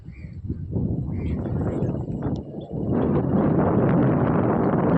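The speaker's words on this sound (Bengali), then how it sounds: "অনেক সুন্দর হাওয়া আছে, ঠান্ডা ফিরফিরে হাওয়া" A cool breeze gusts across an open spot beside a doubled railway line, buffeting the microphone in a steady, rushing roar that swells louder after the first few seconds.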